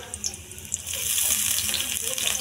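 Chopped garlic hits hot oil in a pan for egg noodles, giving a steady, close hissing sizzle that swells and holds throughout.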